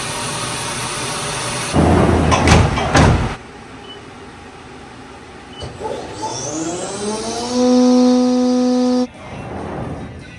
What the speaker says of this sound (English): We're going to come in with this little ball mill right here and get this all smoothed out.